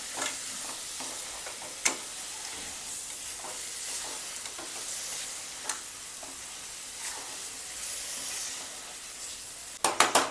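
Cut mushrooms with salt for a dhaba-style masala, stirred in a hot pan: a soft continuous sizzle broken by occasional spatula scrapes and taps, ending in a quick burst of metallic knocks against the pan, no talking.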